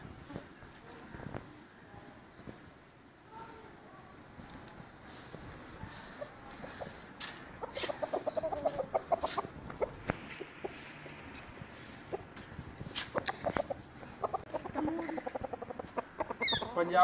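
Scattered clucks and calls from several roosters at moderate distance, over a steady outdoor background with faint voices.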